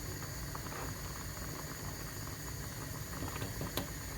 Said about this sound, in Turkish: Mercimeğimiz de kaynıyor.